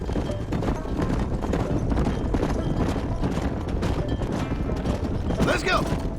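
A horse gallops in Red Dead Redemption, with rapid, steady hoofbeats pounding close by throughout and voices speaking over them.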